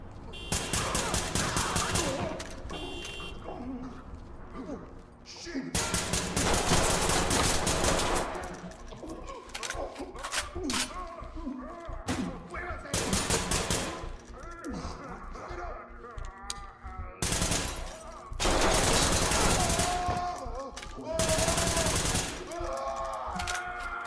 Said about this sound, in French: Je te tire dessus.